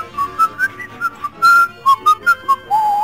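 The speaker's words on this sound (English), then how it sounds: "Shall I whistle the sort of little intro?" A person whistles the short melodic intro of a song alone, a lively run of clear, close notes in quick bursts ending on a longer sliding tone.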